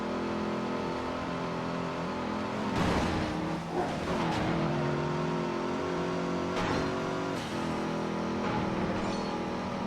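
Racing cars in the PS2 street-racing game Midnight Club 3 DUB Edition roar loudly and continuously, with revving engines, rising pitch sweeps and sharp tire skids and squeals over a constant engine drone.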